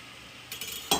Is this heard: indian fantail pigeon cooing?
no